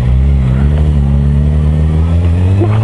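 A motorcycle engine idles close by during a rainy touring stop, a loud, steady low rumble with a slight rise in revs toward the end.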